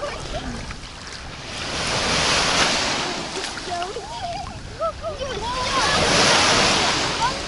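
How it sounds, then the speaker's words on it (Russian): Calm sea waves wash and swell beyond a breakwater in a steady hiss of surf, with faint wind and distant splashing throughout. "Тут море спокойное, хорошее."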